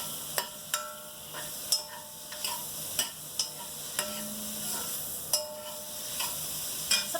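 Onions cooking in a pot for zucchini soup, soft steady sizzling under a series of sharp, close clinks and scrapes from stirring, about a dozen strikes in quick irregular rhythm.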